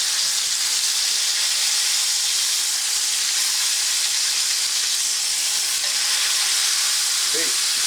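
Beef tenderloin sears in a hot skillet with a loud, constant hissing sizzle that holds steady and close throughout, with no talk over it.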